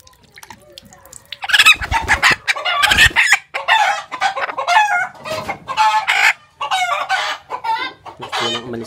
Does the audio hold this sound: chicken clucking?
yes